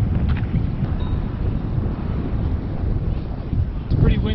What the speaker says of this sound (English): It's pretty windy up here and cooler